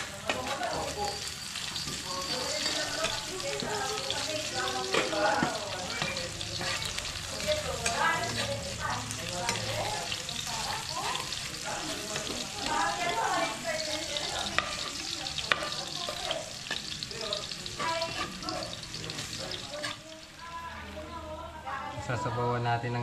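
Garlic frying and being stirred in a pan: a dense, continuous sizzle with scraping of a utensil, while people talk over it throughout.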